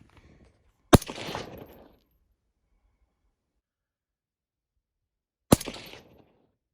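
Two sharp Cobalt Kinetics 6ARC rifle shots a few seconds apart, each a loud crack followed by a rolling echo down a long-distance range, with silence between them.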